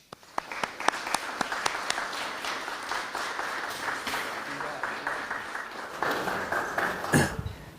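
A lecture audience applauds to welcome a speaker, with sharp separate claps at first that swell into steady applause at moderate loudness, then fade out near the end.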